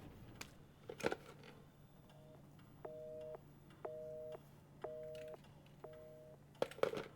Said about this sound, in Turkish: Bir telefon çalıyor.